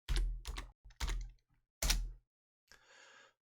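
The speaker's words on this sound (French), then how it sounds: "Et maintenant, je tape python 3 espace" A short burst of typing on a computer keyboard while entering a Python command in a Mac terminal, a few clustered key strikes with pauses, fairly close and clear, ending in a softer patter.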